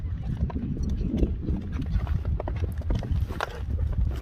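Racing horse gallops past at speed, a fast steady drumming of hooves pounding the ground, loud and close throughout, with faint voices in the background.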